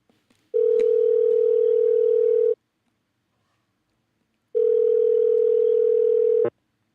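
A telephone line gives two long, steady electronic tones of about two seconds each, separated by a two-second silence, clear and close with nothing else heard.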